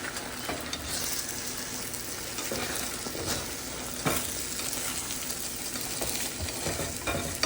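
Three eggs frying softly in a home kitchen pan give a steady, close crackling sizzle that runs unbroken throughout, with small pops scattered across it and no talking.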